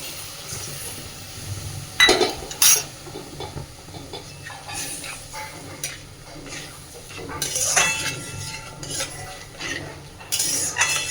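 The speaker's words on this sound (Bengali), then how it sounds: "খুব সুন্দরভাবে এবার মশলাটাকে মিশিয়ে নেব।" A spoon stirs and mixes spice paste in a pan for rui posto (rohu fish in poppy seed paste), giving soft scraping with a few sharp metal clinks against the pan over a faint sizzle.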